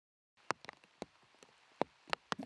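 Rain falls on an outdoor disc golf course in warm, wet conditions, heard as faint, sparse drop impacts that tap irregularly against a quiet background.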